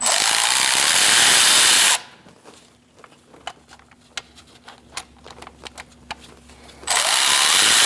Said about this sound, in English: I've swapped out for my battery-operated ratchet just to make my life easier.